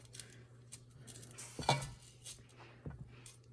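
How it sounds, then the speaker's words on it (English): A plate is set over stuffed grape leaf rolls in a pot, giving one clear ceramic clink among soft scattered taps and knocks, faint and close, with no talking. "Cover it with a plate to keep the rolls in place."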